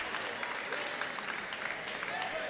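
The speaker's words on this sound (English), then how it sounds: "But a lot of shouting from back behind the bench." Crowd noise and shouting from fans behind the bench at a boys high school basketball game, a steady, dense roar of many voices with no clear breaks, carrying through the gym at moderate volume.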